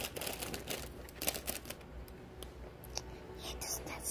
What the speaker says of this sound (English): The wrapper of the chips.